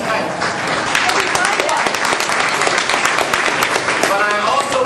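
A town hall meeting audience in Hull claps steadily, a dense, continuous wash of applause under a voice speaking over it.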